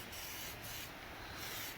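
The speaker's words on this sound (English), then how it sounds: "I'm struggling a bit with frickin' spray bombs because they're just a bit cold." A cold aerosol spray paint can sprays onto the body of a 1965 Chevy during rust repair work, giving a faint, steady hiss that continues without a break.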